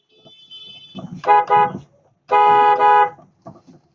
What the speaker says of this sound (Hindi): जो मैंने हॉर्न लगाया ताकि वो स्लो डाउन हो जाए और मैं मूव कर सकूं अपनी कार को